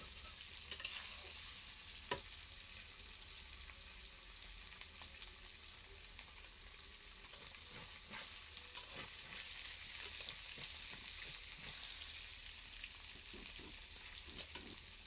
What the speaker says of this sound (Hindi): मसाला फ्राई क्या बोलते हैं, प्याज फ्राई हो गया